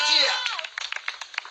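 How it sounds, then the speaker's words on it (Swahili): Church congregation clapping for Jesus, scattered sharp claps under a loud voice that trails off into the room. "nataka upigie Yesu makofi mazuri"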